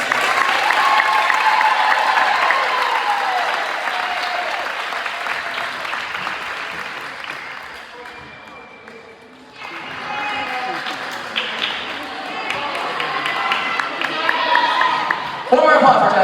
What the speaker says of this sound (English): Give it a round of applause for Jesse.